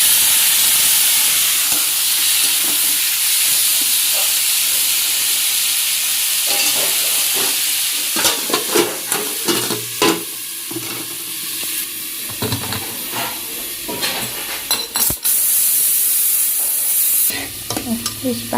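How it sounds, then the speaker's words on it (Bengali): Vegetables hiss and sizzle steadily in hot oil left from frying potatoes, with a near, continuous frying roar broken by clattering stirs and scrapes in the pan. "আলু ভাজা তেলের মধ্যেই সবজিটা ছেড়ে দিচ্ছি"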